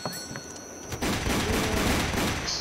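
Rapid volleys of gunfire in a Wild West survival setting, loud and dense after a quieter opening second, a continuous crackling fusillade with no voices over it.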